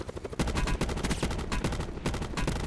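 Rapid bursts of gunfire crackle during a video game shootout, with dense automatic volleys and overlapping shots that hit loud and close, nearly continuous after a brief quieter start.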